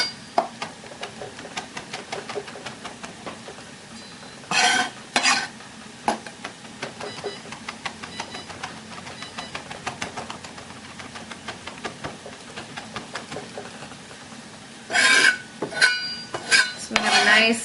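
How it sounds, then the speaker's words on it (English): Fresh rosemary being chopped with a knife on a board, giving steady rapid tapping clicks throughout with a few louder bursts of scraping and gathering, close and clear with no talking. "I love the smell of fresh rosemary. So we're going to get that nice pile."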